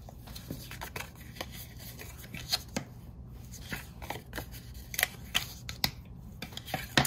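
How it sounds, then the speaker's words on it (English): Card stock being folded and burnished along score lines, a quiet series of close, crisp paper creases and short rubbing strokes spaced irregularly against a soft background. "Now we fold and burnish."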